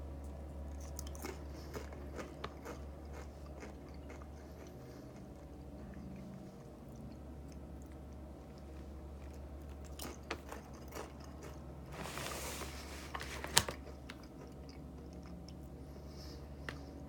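Crunchy cricket chips with a zesty jalapeno flavour being bitten and chewed close up, faint crunches scattered over a low steady background hum, with a louder burst of crunching near the middle.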